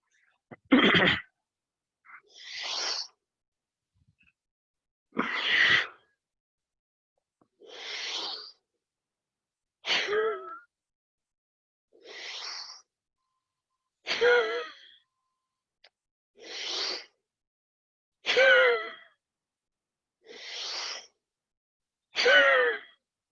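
During a yoga exercise, a person does rapid sectional breathing: eleven separate forceful breaths come at a steady pace, each a short rushing whoosh with silence between them, close to the microphone.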